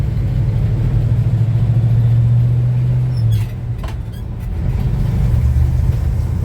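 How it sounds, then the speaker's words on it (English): A 1966 Chevy C10 truck engine hums steadily from inside the cab, a low constant drone that dips briefly as the driver shifts, then picks back up and keeps running smoothly. "Man, this old truck runs great."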